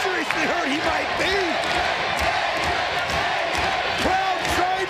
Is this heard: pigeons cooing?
no